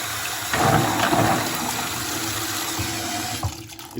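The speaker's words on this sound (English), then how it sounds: "put your nuts in the colander, run some water over top of it" Tap water runs steadily over pecans in a colander during rinsing, a continuous splashing rush with slight shifts as the nuts are moved.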